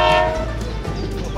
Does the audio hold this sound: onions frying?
no